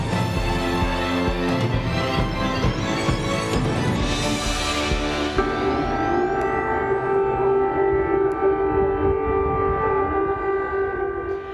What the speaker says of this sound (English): The sound of air sirens piercing the night sky in Ukraine